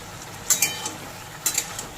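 Ginger paste stirred into softened vegetables for shukto, two quick pairs of spatula scrapes against the pan over a soft, steady sizzle, close by.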